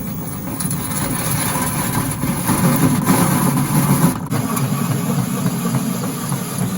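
A truck engine rumbles steadily at idle through a custom exhaust exiting through a hole in the truck bed, with a deep, throaty note, close and continuous, with slight surges in loudness.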